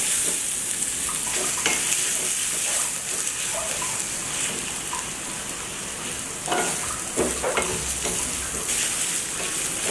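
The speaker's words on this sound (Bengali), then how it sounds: "পেঁয়াজটা এবং রসুনটা আমি লাল লাল করে ভেজে নেব।" Onion and garlic frying in mustard oil, a steady dense sizzle with occasional stirring scrapes, close and fairly loud throughout with no talking.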